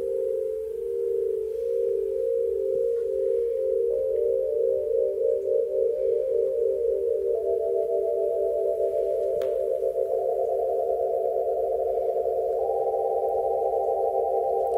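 Synthesizer with two oscillators, one detuned upward, produces a steady sustained electronic tone that beats and flickers, stepping up in pitch several times over about fifteen seconds, alone without voices.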